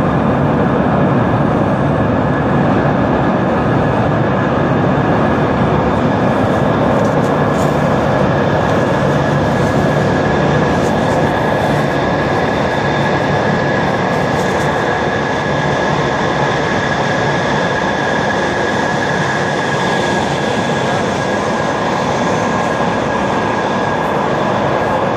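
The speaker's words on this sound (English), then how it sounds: "Comes another tool vehicle now, another maintenance vehicle." A metro maintenance vehicle rolls through Lionel-Groulx station in Montreal, a loud steady rumble and roar of wheels on rail with faint squealing tones, sustained throughout.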